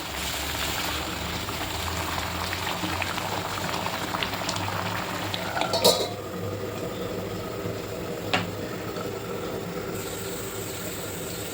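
A pot of mixed bhaji with peanuts simmers steadily, giving a continuous bubbling, hissing boil that stays even throughout, with a couple of sharp clinks near the end.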